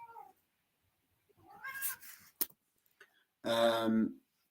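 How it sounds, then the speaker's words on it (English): A cat meows several times in a room during a boxing broadcast. The first meow is faint, then a plaintive call comes, then a loud, drawn-out final meow, with brief ticks in between. "We have a cat in the room at the same time."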